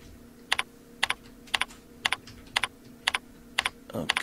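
Keys clatter on a computer keyboard as a backup name is typed into backup software: eight quick, evenly spaced bursts of two or three clicks each, close and clear, with no voice over them.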